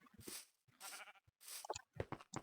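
Sheep in a farming video game bleat in a few short, close, wavering cries separated by brief pauses, fairly faint and heard alone.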